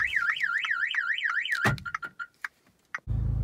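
A Pandora car alarm on a modified Fiat 500 Abarth wails loudly with a fast up-and-down siren tone, then cuts off into scattered clicks and chirps before a low rumbling noise starts.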